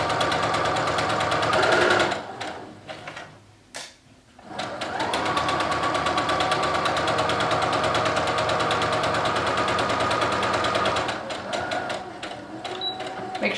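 A domestic sewing machine stitching fabric for a fox pillow, a loud close continuous rapid whir that breaks off briefly around a pivot at the corner, then resumes steadily and tapers near the end.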